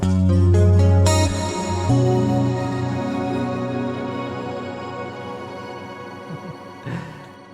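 Electric guitar played through the McRocklin Suite Afterglow 4 preset: a strummed chord, then notes ringing out into a long, slowly fading wash of ambient decay, with a quiet touch of the strings near the end.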